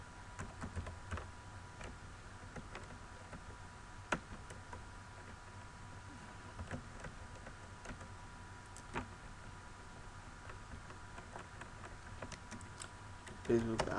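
Quiet clicking of a computer keyboard as an ad message is typed, an irregular patter of soft keystrokes with a few sharper taps, faint beneath occasional talk.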